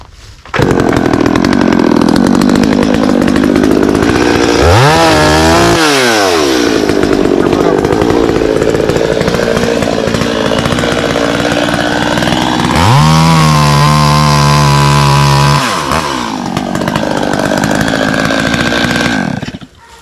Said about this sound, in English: I gotta get the chainsaw and cut that off